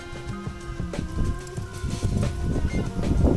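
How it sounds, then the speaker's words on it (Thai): Wind and rain sweep in outdoors: a close, continuous patter of drops on surfaces mixed with gusting wind that swells louder toward the end, with no talking. "ตอนนี้ลมฟ้าลมฝนมาด้วยครับ"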